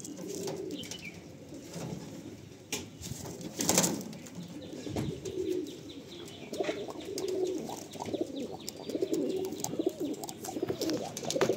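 Pigeons in a loft at Ranihati, with repeated soft cooing from several birds, a few chirps and brief wing flaps, close and moderately quiet.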